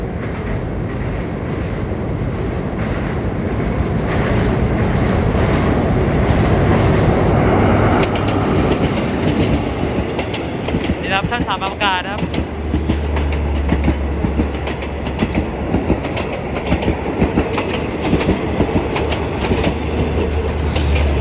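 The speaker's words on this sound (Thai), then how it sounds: "ขณะนี้มีขบวนรถด่วนที่ 85 กรุงเทพนครศรีธรรมราช หลังทำขบวนผ่านสะพานจุฬาจอมเกล้านะครับ" Express train No. 85 from Bangkok to Nakhon Si Thammarat crosses the Chulachomklao bridge over the Tapi River, a loud, steady rumble with rhythmic clickety-clack of wheels on rail joints throughout, no talk.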